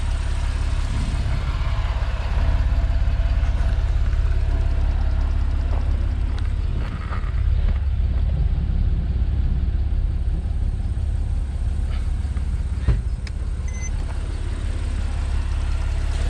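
A Porsche 911 Carrera 997.2's 3.6-litre direct-injection flat-six idles with a low, steady rumble nearby, with faint ticking and a few small clicks over the drone.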